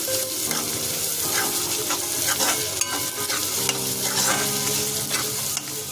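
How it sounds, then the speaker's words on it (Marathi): Carrot, onion and capsicum frying in oil: a loud, continuous close sizzle with a spatula scraping and stirring repeatedly, no voices. "आता आपण आहे ना त्यामध्ये शिमला मिरची टाकून घेऊया आता ही सुद्धा चांगली परतून घेऊया तेलामध्ये"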